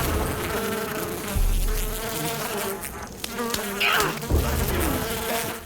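Bees from the Far Cry games buzzing close and loud, a dense, wavering insect drone that continues with a few dull thuds mixed in and no speech.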